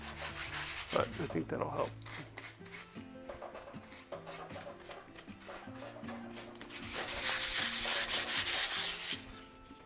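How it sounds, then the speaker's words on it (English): Light hand sanding of a chalk-painted wood crate produces repeated scratchy rubbing strokes, close and moderately loud, growing denser toward the end, while a person talks briefly over it. "Give it a light sand."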